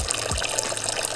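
Oil gushes from a BMW F30 335 engine in a short, splashing liquid stream, near and steady like water running from a tap.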